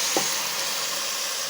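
Hot oil holding fried rice sizzles with a steady, loud hiss as water is poured into the pan, continuing alone without any talking.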